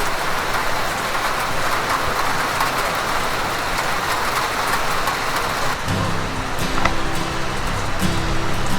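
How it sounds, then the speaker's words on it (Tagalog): Heavy rain pours steadily at a beach campsite in Pangasinan, a loud continuous hiss throughout, with a low rumble of surf or wind joining near the end. "ang lakas ng ulan dito ngayon"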